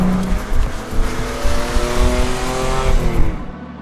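A 1972 Ford Capri RS2600 accelerates on the road, its engine note rising in pitch through the revs with some tyre noise, loud and close for a few seconds before cutting off.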